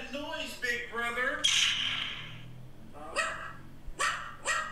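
A dog barks several times, close and loud, with short gaps between the barks and a quiet background.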